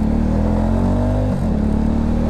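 Italika Vort-X 300R single-cylinder motorcycle engine running close by, a loud throbbing idle with a brief dip and blip of revs midway before settling back into a steady thump.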